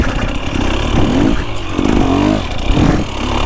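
An upgraded enduro motorcycle is ridden on slippery sand, its mid-pitched engine rising and falling in repeated revving surges, loud and close to the rider, with wind and clatter and no talking.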